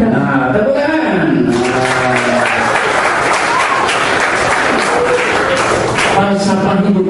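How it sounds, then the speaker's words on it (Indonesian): Students and teachers applauding at a disaster-preparedness seminar at SMA 79, a sustained wave of clapping that swells in the middle, with a voice speaking at the start and end. "Nah, tepuk tangan"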